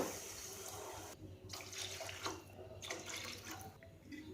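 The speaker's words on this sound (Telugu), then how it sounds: "అందుకు 3 కప్పులు వాటర్ వేస్తున్నాను" Three cups of water pour in bursts into a cooking pot for bagara rice, a splashing rush that stops and starts several times, fairly quiet and close.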